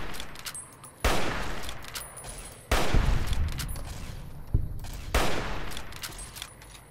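Gunfire in Fallout New Vegas: three loud, broadband bursts of shooting at roughly one, three and five seconds, each decaying into a noisy rumble, with no talk over them.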